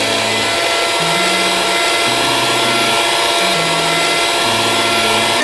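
An electric mixer kneading corn bread dough with egg yolk and cold water, a steady loud whirring motor hum that shifts in pitch as the load changes, with no voices.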